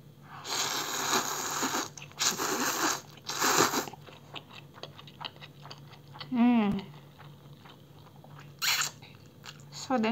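Crunchy bites into fried squid and shrimp skewers served with cold bibimmyeon noodles, loud close-up crackling crunches in bursts with quieter chewing between and a brief voiced sound.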